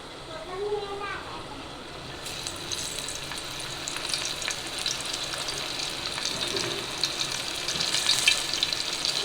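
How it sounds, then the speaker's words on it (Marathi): Prawns frying in oil for prawn biryani, a continuous crackling sizzle up close that grows a little busier toward the end, with a brief stretch of talk near the start. "आता एकीकडे तेल टाकून कोळंबी फ्राय करते."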